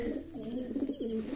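A territorial pigeon coos in low, rolling pulses close by, with a steady background hum beneath the soft repeated calls.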